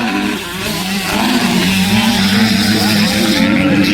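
85cc motorcycles race on a track at a NAMSSA 2025 round, engines buzzing loud and close with a steady high-revving drone that rises after a brief dip.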